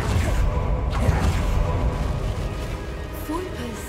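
A Bombarda spell blast in the Hogwarts Legacy video game, a sustained loud rumbling boom with creaking debris that stays dense and heavy throughout and never drops to silence.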